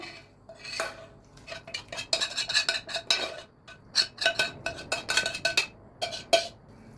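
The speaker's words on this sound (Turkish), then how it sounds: "Şimdi üzerine soğanları boşaltıyorum" Chopped onions are emptied from a pan onto cooked lentils in a bowl for Turkish lentil köfte, making a run of close, bright clinks and scrapes of a spoon against metal and glass, with no talking.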